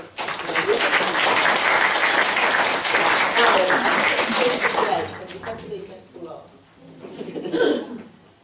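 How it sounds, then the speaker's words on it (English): Studio audience applause at a science-of-the-heart talk, a dense steady clapping wash for about five seconds that thins out into scattered claps and murmuring voices. "round of applause for"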